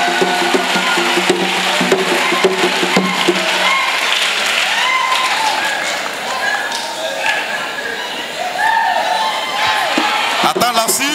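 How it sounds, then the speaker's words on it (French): A church congregation claps and cheers loudly and continuously, with whoops and voices rising over a steady wash of applause that stays strong from start to finish. "Acclamons le Seigneur Jésus-Christ."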